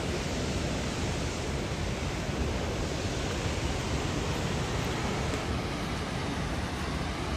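Thoseghar waterfall near Satara, Maharashtra: a steady, dense roar of falling water fills the whole stretch evenly and loudly, with no pauses and no voices.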